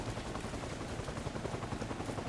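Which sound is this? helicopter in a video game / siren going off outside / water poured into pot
helicopter in a video game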